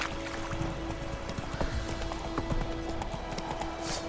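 Roach, Geralt's horse in The Witcher 3, gallops in a steady rhythm of clip-clop hoofbeats over a continuous low drone and a faint humming tone, moderately close and without speech.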